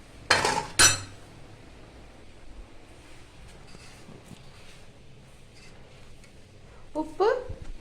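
A metal utensil clinks and scrapes against a pot a couple of times as curd is stirred into a Tamil buttermilk curry (mor kuzhambu), then quieter rustling stirring, with another scrape near the end.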